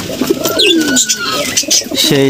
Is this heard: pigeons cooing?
yes